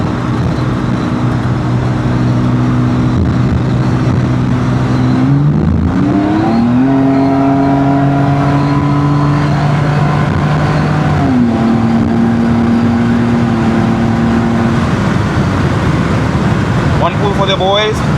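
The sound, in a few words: BMW E36 328i car accelerating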